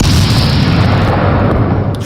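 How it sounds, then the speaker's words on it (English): An explosion sound effect, a loud, sustained booming roar that fills the whole clip and cuts off sharply at the end, with no talk over it. "Hey, you get an explosion for that."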